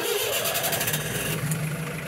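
An Alfa Romeo A12 tow truck engine, already warm, cranks over on the key and catches, running steadily and loud close by with no voices.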